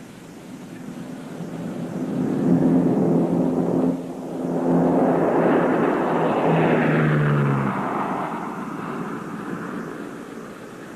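A Lockheed L-188 Electra turboprop airliner with Allison prop-jet engines roars loudly and steadily, its pitch swelling and shifting as it passes close by, with a brief dip partway through.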